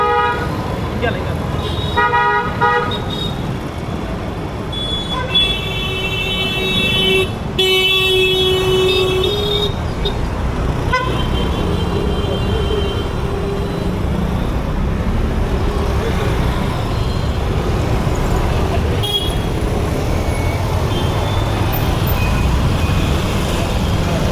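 Busy street traffic rumbles steadily while car horns toot in short bursts, with voices talking over the noise throughout.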